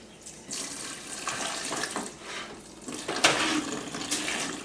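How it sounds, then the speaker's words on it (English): Tap water runs steadily into a bowl, building a chicken wing brine of salt and apple cider vinegar, a close, continuous splashing stream with slight surges as the flow hits the liquid. "Get some water in there"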